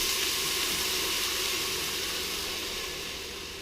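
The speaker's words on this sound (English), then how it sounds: "Right now, you're gonna add enough water that you would deem to be able to submerge the chicken in." Water pours into a stock pot on a kitchen stove, a bright, continuous hissing rush that stays loud and close, easing slightly as the pot fills.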